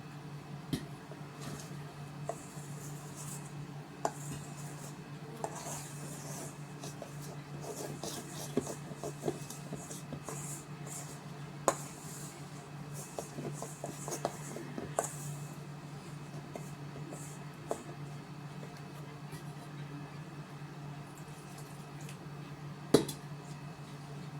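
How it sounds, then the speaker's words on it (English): Masa dough for tamales, with lard clumping in it, gets stirred in a bowl: soft scraping, plus faint scattered clinks and taps from the spoon against the bowl, steady and close over a low hum. "It's getting hard to stir"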